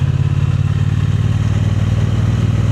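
Close, loud steady idle of a Voge DS625 adventure motorcycle's roughly 580cc engine, a constant throbbing rumble with no revving.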